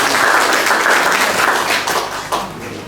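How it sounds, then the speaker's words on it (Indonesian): A crowd at an official gathering in Rote Ndao applauds the Governor of NTT with dense, loud clapping that stays strong, then begins to taper off in the final second. "Luar biasa, tepuk tangan untuk Pak Gubernur."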